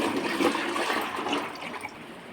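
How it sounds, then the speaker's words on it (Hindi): Mango pickle liquid is poured back into a container in a steady, splashy stream that holds fairly loud before gradually thinning and fading, with no speech. "इसे आप फिर से डब्बे में भर लीजिए।"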